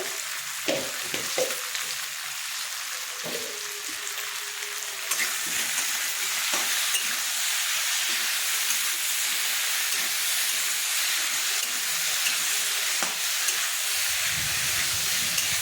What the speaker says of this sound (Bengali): সবজিগুলো আমার প্রায় ভাজা হয়ে গেছে